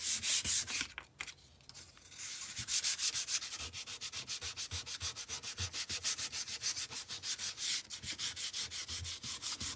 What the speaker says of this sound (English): We're going to sand this. And this is a 180 grit sandpaper.